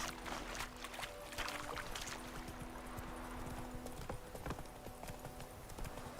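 Horse hooves clip-clop steadily at a walk in The Witcher 3 video game, a faint, even rhythm over a soft outdoor ambience, with no talk.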